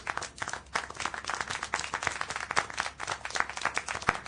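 Scattered hand clapping from a small group in Syberia The World Before, the game's Silberspiegel refugee scene, steady and moderately loud throughout with no talking.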